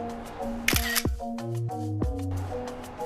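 A camera shutter fires a few sharp clicks during a selfie on the summit of Mount Shasta, with a soft whir between the clicks. The clicks are close and loud against quiet, and no one speaks.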